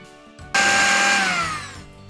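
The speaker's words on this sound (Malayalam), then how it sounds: "മല്ലിയില അത് മുറിച്ച് മിക്സിയിലേക്ക് ഇട്ട് കൊടുക്കാം എന്നിട്ട് നമുക്കിത് നല്ലോണം അരച്ചെടുക്കാം" A kitchen mixer grinder starts up on cut coriander leaves with chilli powder, a loud whining motor that kicks in abruptly after a quiet moment, then slowly dips in pitch as it runs.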